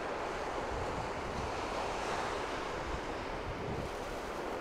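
Sea waves breaking at a beach, a broad continuous roar of surf with wind buffeting the microphone, steady and fairly faint throughout, with no voices.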